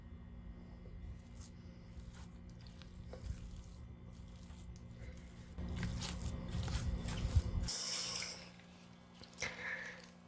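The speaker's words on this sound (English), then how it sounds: "And now we stir these pickles into this cookie dough" Chopped pickles stirred by hand into cookie dough, giving soft, close, wet squishing and scraping that grows denser and louder partway through before easing off, with faint clicks at the end.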